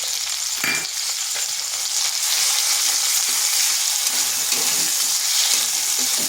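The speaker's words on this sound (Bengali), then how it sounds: "এটাকে বেশ কিছুক্ষণ নেড়ে নেব।" Ginger and green chili paste sizzles steadily in a pan while a spoon stirs it, with a scrape near the start, close, loud and continuous, and no talking.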